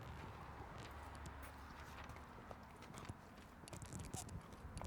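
A horse being lunged in a ring, its hooves thudding and clip-clopping at a steady gait on the ground, faint and a little distant, with low background noise and no clear voices.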